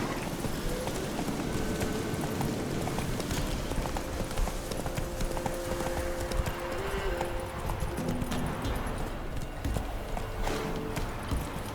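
Horse hooves clip-clop in a steady trotting rhythm throughout in The Witcher 3, with a faint tonal hum in the background.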